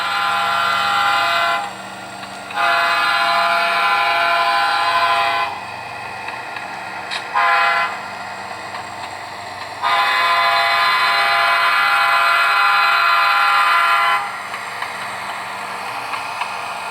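A video game train horn honks in long, loud blasts, several separate toots with pauses between them, over a steady rumbling engine hum.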